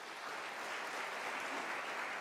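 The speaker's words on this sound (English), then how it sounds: "one more round of applause to Dr. Tlongwane." Applause for an honorary doctorate recipient at a university autumn graduation ceremony in South Africa, a brief burst of steady, dense clapping from a large crowd, somewhat distant.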